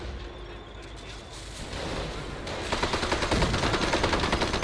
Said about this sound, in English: Half-track pinning those guys down.